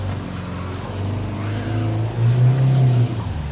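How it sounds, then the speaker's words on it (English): A 2022 Hyundai Tucson engine revs under throttle on an off-road hill, a steady low drone that swells and climbs in pitch midway before easing slightly, with no talk over it. "Let's see what happens as I apply throttle."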